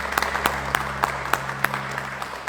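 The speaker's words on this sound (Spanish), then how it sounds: "un aplauso para el Padre Israel" Sparse, slow clapping at a diocesan history workshop: a handful of separate sharp claps spaced roughly evenly, over a steady low hum.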